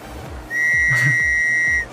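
A whistle blown in the survival video game Stranded Deep, a single sustained shrill tone of under two seconds, clear and loud with a faint low rhythmic thumping beneath it.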